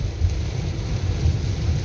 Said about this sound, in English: It's a surprise rain, I don't know, quite a surprise.